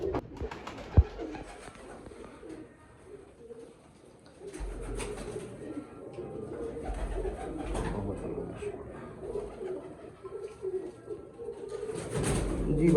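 Pigeons in a breeder's loft coo in a steady low murmur throughout, with people talking over them and a sharp knock near the start.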